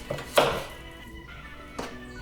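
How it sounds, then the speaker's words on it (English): Knife chopping vegetables such as green peppers and jalapeno for vegan chili, a few sharp, well-spaced thunks on a cutting board, near and fairly loud, with quiet gaps between strikes. "Let's start chopping."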